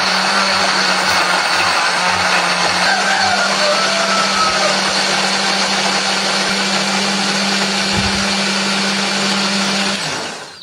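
A blender runs loudly and steadily, grinding chili paste with a little added water for about ten seconds before switching off near the end.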